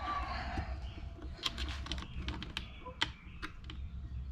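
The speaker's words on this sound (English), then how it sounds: "tighten this bracket down" Tightening a bracket on a Gold Cube sluice, with a run of small, sharp clicks and ticks close by over a low background rumble.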